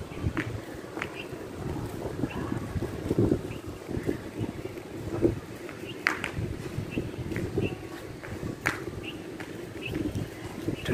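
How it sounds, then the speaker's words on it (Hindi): Cool wind blows across a rooftop in Sialkot in stormy weather, a steady low rumbling roar of gusts buffeting the microphone, with scattered soft knocks and thumps throughout. "ठंडी ठंडी हवा चल रही है"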